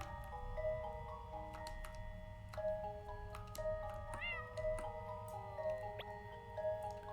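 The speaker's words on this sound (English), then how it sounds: "I like that I can talk to the cat, and it just meows." A cat meows in the video game Impostor Factory, its short tonal calls sitting over steady game music with tinkling melodic notes and a low background drone.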